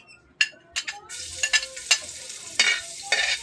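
Garlic sautéing in a pan while cooking beefsteak: a light sizzle under sharp scraping and stirring clicks, with bursts of hiss as the spatula moves, close and fairly quiet, without speech.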